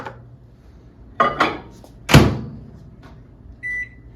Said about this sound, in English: I'm gonna go pop this in the microwave and for 30 seconds to get it loose